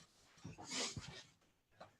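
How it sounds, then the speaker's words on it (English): A pet dog whimpers and whines near a door while waiting to be let outside, giving short soft cries with brief pauses between them. "Hang on one sec, I gotta let my dog out."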